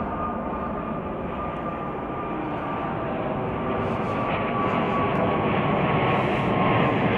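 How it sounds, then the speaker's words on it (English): A Turkish Airlines jet airliner arriving from Istanbul at O'Hare gives a steady, broad roar that slowly grows louder through the clip, with no talk. "this is Turkish Flight 5 from Istanbul"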